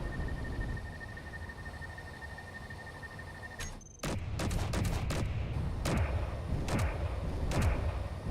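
Turret in Space Engineers opening fire after a steady mechanical hum, with a series of loud, evenly spaced heavy shots and booms in a continuous rumble.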